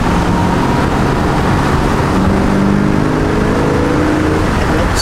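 A Camaro Z28 with a 302 V8 runs hard at speed, a loud, steady engine drone and road roar that stays at full level throughout with a slight rise in pitch partway.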